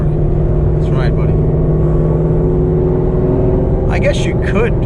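A supercharged 800 rwhp Ford Mustang S550 engine rumbles loudly and continuously from inside the car, a deep steady drone with a whining blower note, while people talk briefly over it.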